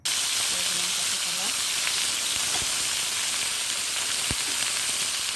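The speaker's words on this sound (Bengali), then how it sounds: "একটা কড়াই বসিয়ে কড়াইয়ের মধ্যে দিয়ে দিলাম তেল। তেলটা আমি ভালো করে গরম করে নিলাম। এখন আমি এর মধ্যে দিয়ে দেবো কাঁচা কলাগুলো।" Raw banana pieces dropped into well-heated oil in a wok, giving a steady, close frying sizzle and hiss that runs the whole time, with no talk over it.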